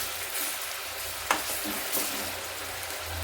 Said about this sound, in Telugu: దీంట్లోనే ఫ్రై అవ్వాలి ఇట్లా మొత్తం కలిసే విధంగా కలుపుకోవాలి